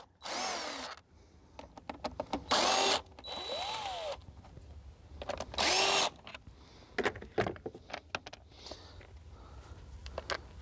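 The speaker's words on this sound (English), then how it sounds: "the first thing we gotta do is remove these 3 Torx on top here" Cordless power driver whirs in three short bursts, each rising in pitch, taking Torx screws off the fuel injector cover of a Jaguar XJ6, with clicks and metallic clatter of parts between.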